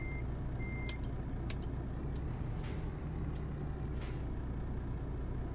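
A truck in a driving video game sits idling as a steady low engine drone, while a short air-brake hiss and a few faint beeps and clicks sound over it.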